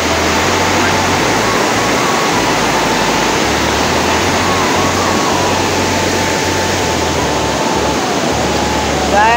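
After heavy rain a swollen river thunders steadily past a footbridge, a loud, dense rushing roar that holds constant throughout, with slight low rumbles pulsing underneath.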